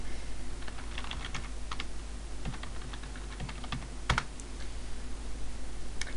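Keystrokes on a computer keyboard as a username and password are entered at an Ubuntu Server login, a run of quick clicks in bursts with pauses, close and fairly quiet over a steady background hum.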